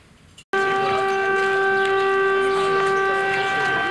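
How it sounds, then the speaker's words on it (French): A town siren in Mouzeuil-Saint-Martin, Vendée, France, sounds as a rally signal, kicking in abruptly and holding a loud, steady multi-tone wail with faint background noise. "Une sirène à Mouzeuil-Saint-Martin comme dans bon nombre de communes de France."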